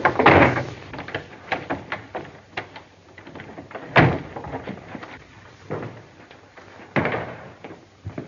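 Door being entered in a 1933 pre-Code western, heard as several sharp wooden knocks and bumps, with a louder impact around four seconds and another near seven, close and fairly loud with scuffling between.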